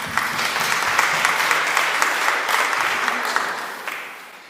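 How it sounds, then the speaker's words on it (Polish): An audience at a travel culture festival talk claps in steady, full applause that holds at an even level for several seconds, then eases off at the end. "wielkie brawa dla nas wszystkich"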